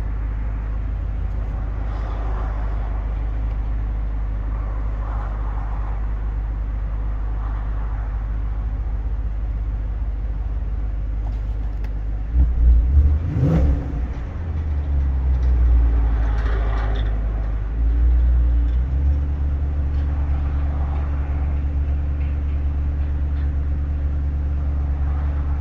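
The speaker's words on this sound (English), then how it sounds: "You can hear the rumble of the exhaust here." The exhaust of a 2023 Chevrolet Corvette Stingray gives a steady, deep rumble heard from inside the car, swelling briefly louder partway through.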